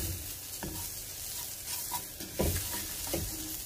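Rice toasted with garlic and onion hisses softly in a pan while a spoon scrapes through it in several quick, spaced strokes.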